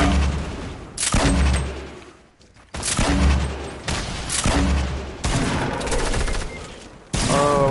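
Rapid bursts of gunfire in a Fortnite match, loud and close, with several dense volleys separated by brief pauses and no talking over them.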